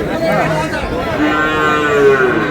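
A dairy cow moos in long, drawn-out calls close by at the Ambari cattle market, with a faint murmur of people in the background.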